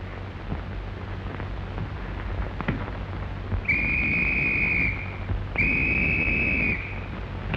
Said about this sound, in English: Hey, was you blowing a whistle?